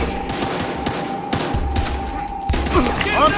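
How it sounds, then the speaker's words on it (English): Rapid gunfire bursts from a police shootout in the video game Battlefield Hardline, with sharp repeated shots over a dense, noisy battle background and a steady tone underneath. "13 reporting gunfire downtown, Elmar Hotel."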